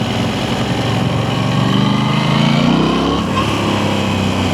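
Aprilia Tuono 660 motorcycle engine while riding, a steady loud drone with a slight rise and fall in pitch midway, continuous throughout with no talk.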